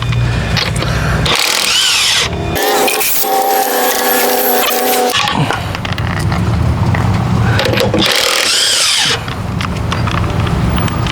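An impact wrench loosens car wheel lug nuts in loud, repeated hammering bursts of one to two seconds each, close up over constant loud background noise.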